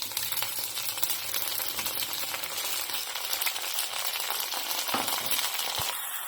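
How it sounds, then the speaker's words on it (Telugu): Masala paste with curry leaves fries in hot oil for a fish curry, a dense continuous sizzle and crackle up close with occasional stirring clinks, no talking. "ఇందులోకి కరివేపాకు వేసేసుకొని ఈ మసాలా ముద్దంతా వేసుకోవాలి"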